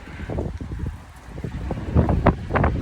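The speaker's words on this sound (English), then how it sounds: "And, oh, there's the wind." Wind gusting outdoors in Minnesota ahead of a storm, buffeting the microphone in uneven rumbling bursts that swell louder toward the end.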